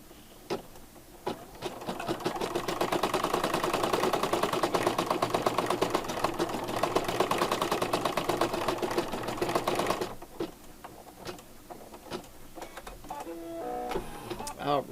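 An embroidery sewing machine stitches an eye in black thread on an in-the-hoop zipper bag, a loud, fast, steady mechanical stitching rattle running for about ten seconds before stopping, followed by quieter handling noises.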